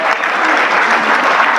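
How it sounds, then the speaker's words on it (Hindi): An audience at a UIDAI Aadhaar enrollment session claps to welcome a speaker, a dense, loud, even wash of applause that holds for the whole moment. "एक बार तालियों के साथ उनका स्वागत करेंगे सभी लोग।"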